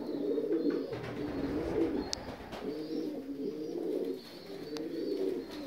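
North Caucasian tumbler breeding pigeons coo in low, repeated throaty phrases, close by and steady, with a few faint clicks and rustles in the background.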